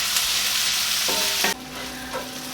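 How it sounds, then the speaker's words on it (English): Onions frying in a pan after about 25 minutes of cooking, a steady broadband sizzle with stirring noises, close and fairly loud, shifting slightly partway through. "my onions have been cooking for about 25 minutes and they are nice and caramelized"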